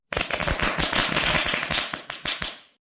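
Children at a village Republic Day celebration clap loudly and close up, a dense, lively run of hand claps that keeps up for a few seconds and then stops.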